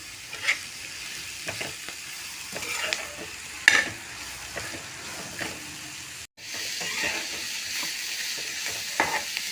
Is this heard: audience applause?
no